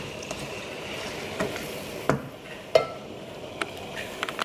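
Soft, steady sizzle of potatoes frying in a pan, with occasional scrapes and light clinks as they are stirred; no talking.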